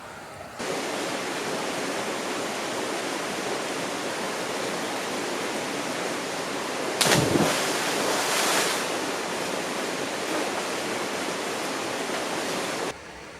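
Steady loud rush of a high, storm-swollen river, a continuous broadband roar close by with a brief burst of splashing partway through.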